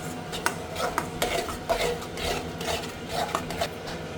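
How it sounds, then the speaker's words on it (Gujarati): Tomatoes being stirred into pasta in a pot, rhythmic scraping and rubbing strokes of a spoon against the pan, close and steady, repeating every half second or so with no voices. "ટમેટ નાખી દીધા એને મિક્સ કરી દેવાનું"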